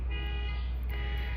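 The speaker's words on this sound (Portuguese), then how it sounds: "Ai, tem uma buzina aqui que vai... Espera que alguém resolva, é um alarme de algum carro." A car alarm blares steadily somewhere nearby, a continuous droning electronic tone with a low hum beneath it and a slight shift partway through, with no talking over it.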